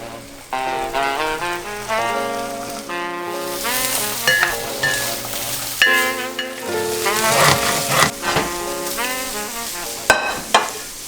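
Vegan eggs and sausage frying in a pan, a continuous crackling sizzle with light stirring, heard under prominent background music throughout.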